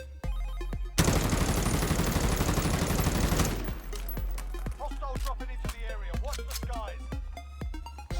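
Cold War era automatic rifle fired in Call of Duty Warzone, a dense sustained burst of rapid shots for about three seconds, followed by a string of separate single shots with clinking casings and echoes.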